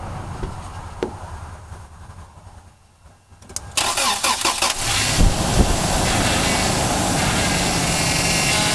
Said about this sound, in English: point it at the engine while I start it